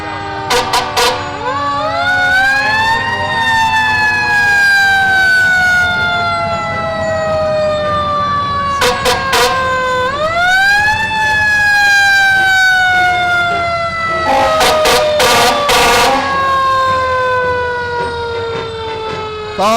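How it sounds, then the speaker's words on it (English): A fire engine siren, Engine 1 from Billerica in a Fourth of July parade, wails loudly and close, rising and falling in long sweeps, with short blasts of the air horn breaking in between. "This is Engine 1 from Billerica."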